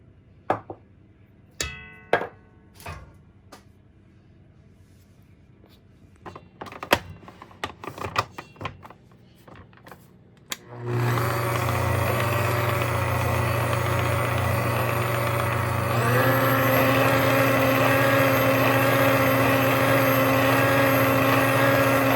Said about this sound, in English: I'm going to add my eggs and the sugar, and I'm going to beat it together until well blended or combined